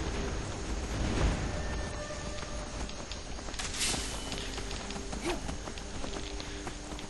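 Horse hooves clop steadily in the video game Skyrim, a continuous rhythmic drumming of footfalls under a dense, noisy game soundscape, with no talking.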